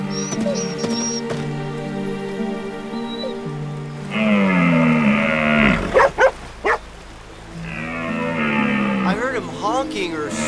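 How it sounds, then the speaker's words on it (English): A cartoon moose stuck halfway up a rocky slope calls out with a loud, drawn-out moo-like bellow that fills the middle of the clip, set against background music and a few sharp knocks. "We found a moose stuck halfway up a rocky slope."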